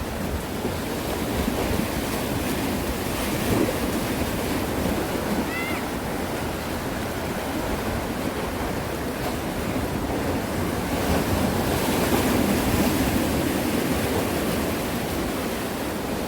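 Sea waves crash against rocks on a windy shore near a fishing spot, a loud continuous roar of surf and spray with gusting wind noise across the microphone.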